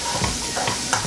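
Spice paste for mie celor is sautéed and stirred in a pan, giving a soft steady sizzle with brief scraping stir strokes over just over a second, fairly quiet and close.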